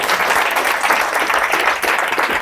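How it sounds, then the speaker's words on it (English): Audience at a tech meetup talk claps for the next speaker, a dense, even burst of applause close and loud from start to finish with no voices over it. "Give it a round of applause for Chris"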